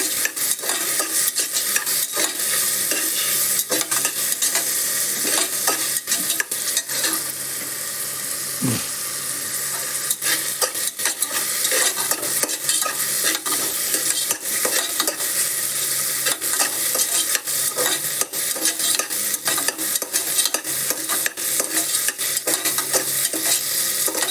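Tomatoes stirred into a sizzling one-pot chicken biryani base: a loud, continuous frying hiss broken by frequent scrapes and clicks of the spoon against the pot, with no talking.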